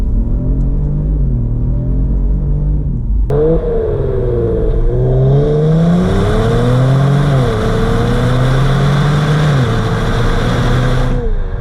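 Twin-turbo V6 of a Kia Stinger GT1 revving hard and accelerating, a loud, close engine drone whose pitch climbs and dips through gear changes over a steady rumble, with no voices.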